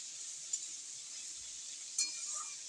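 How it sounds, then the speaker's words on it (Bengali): Ingredients frying together in a pan give a steady, soft sizzle throughout, broken twice by light metallic clinks of a stirring utensil. "এগুলোকে একসঙ্গে ভাজতে হবে, ভালো করে লাল লাল করে ভেজে হবে।"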